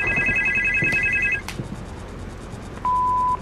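Electronic telephone ringing in a horror video game: a warbling ring tone for over a second, a sharp clack, then a shorter steady beep later, over a dark ambient background.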